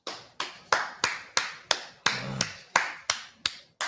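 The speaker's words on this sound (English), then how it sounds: "Let's give him a round of applause." A round of applause for an interviewee on a talk show comes through as about a dozen crisp, evenly spaced claps at a slow steady beat, close and clear, with no talking.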